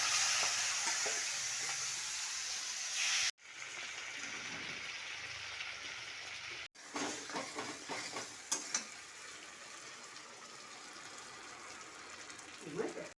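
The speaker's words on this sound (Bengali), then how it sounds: "ওই তেল গরম হয়ে গেছে, মাছগুলো ভেজে নেবো।" Fish sizzling in hot oil in a home kitchen, a steady close crackling hiss broken by two brief cuts, with occasional stirring clatter and pops.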